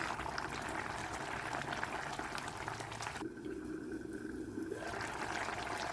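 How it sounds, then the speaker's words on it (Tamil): Long beans tamarind curry boiling in a pot, a steady close bubbling and simmering hiss that continues throughout with no talking. "கொஞ்ச நேரம் குழம்பு கொதித்து வத்தணும் அப்போ தான் கெட்டியாக வரும்"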